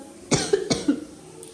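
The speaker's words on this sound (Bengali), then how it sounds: "বাবা কাশি হচ্ছে" A person gives two quick, close coughs in a home, followed by a short, softer throaty sound.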